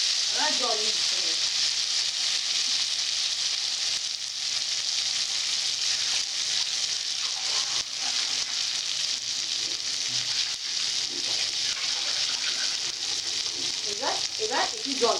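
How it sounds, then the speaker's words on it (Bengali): Fried chhana balls are stirred with tomato in a kadai, with a loud, constant frying sizzle throughout and occasional scraping of the spoon, close by, with no talk. "টমেটো দিয়ে ভালো করে নাড়তে হবে"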